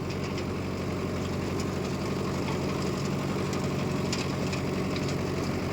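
A Mahindra Yuva Tech+ 585 tractor engine idles steadily on a farm, a continuous low, throbbing rumble with a faint knocking pulse, close and unchanging throughout with no talk.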